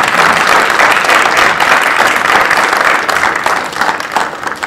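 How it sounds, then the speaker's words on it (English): A large audience at a school general assembly applauds award winners, a loud, dense and sustained wave of clapping that thins slightly toward the end. "a round of applause for all of our secondary award winners, credit and accomplishments."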